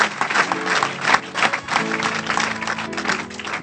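A church congregation bursts into dense, sustained applause during a worship service. The clapping is loud and close and fills the whole stretch without a break.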